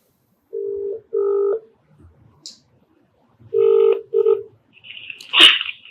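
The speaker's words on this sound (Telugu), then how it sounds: "ఒకసారి కాల్ చేస్తానండి" Telephone keypad dialing tones: two clusters of steady beeps, a pair then another pair, separated by a short gap with faint handling noise, ending in a sharp burst of noise.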